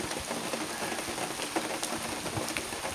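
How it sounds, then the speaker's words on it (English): Heavy rain pours down steadily near a Shinto bee sanctuary in Japan, a dense constant hiss with scattered close drips and patters and no voices. "It's really, really, really rainy now."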